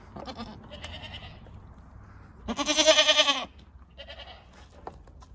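Goats at a farm bleat in several calls, with one loud, drawn-out bleat standing out near the middle amid quieter calls around it.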